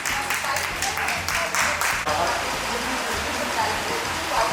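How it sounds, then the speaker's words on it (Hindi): Dense, steady clapping from a large crowd, loud and sustained throughout, rising in bursts early on before settling into an even roar. "एक बार जोरदार तालियां इसके लिए हो जाए"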